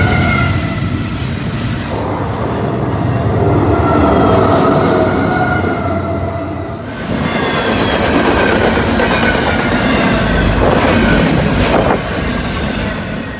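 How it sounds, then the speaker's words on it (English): A freight train with C6M distributed power units rolls past close by, a loud continuous roar of wheels and cars with rhythmic clickety-clack and faint squeal, briefly dipping midway before surging again. "The DPUs sucked them into the train as they passed by."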